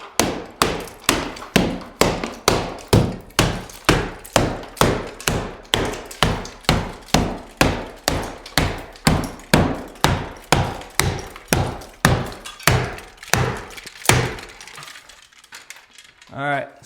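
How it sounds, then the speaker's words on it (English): A hammer smashes drywall off a wall in a fast, regular series of loud, sharp cracking blows, roughly two per second, for about fourteen seconds before fading into quieter crumbling debris. "You're literally just gonna smash it all the way up."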